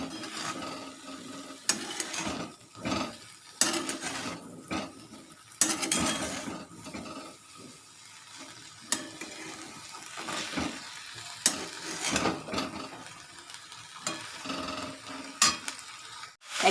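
A cauliflower curry being stirred in a hot pan, a steady sizzle of frying broken by repeated scraping strokes of the spoon against the metal, close up, with no voices.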